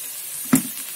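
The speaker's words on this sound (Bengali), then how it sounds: "এবার আমি এটা সুন্দর করে নাড়িয়ে নেব" A spiced chicken and vegetable chop mixture, seasoned with cumin, coriander powder and garam masala, sizzles in a pan, with one brief scrape of stirring over a steady frying hiss.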